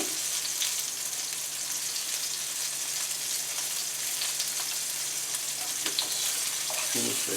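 Tuna steaks sear in a hot pan with a steady, close, loud broadband sizzle that holds unbroken throughout, with a few faint clinks near the end.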